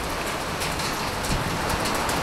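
Heavy rain with small hailstones pours down in Siddapura, a loud, continuous broadband roar with scattered sharp ticks of ice striking surfaces nearby.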